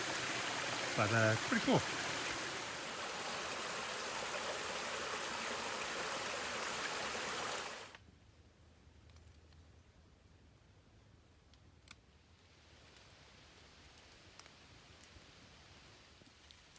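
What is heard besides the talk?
Cave Creek flowing water, Alabama trail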